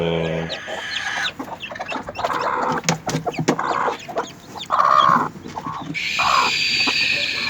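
A mother hen and her Denizli chicks cluck and cheep close by, with bursts of fowl calls scattered over steady farmyard noise and an occasional faint crow.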